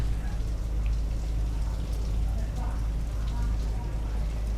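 Rain falls as a steady, dense hiss with a heavy low rumble underneath, continuous throughout with faint voices in the background.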